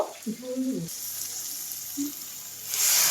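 Fried potatoes stirred with spices in a frying pan for a goat liver curry give a steady, close hiss of sizzling oil that swells louder near the end, with a short voice briefly heard at the start.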